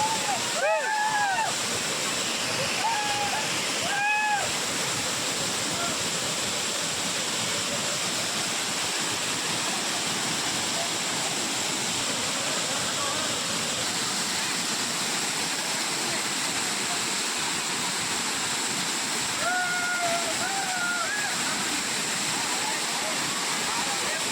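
Savdav waterfall in Kankavli pours in a steady, loud broadband roar that runs unbroken throughout, with brief voices and whistle-like calls rising over the rushing water now and then.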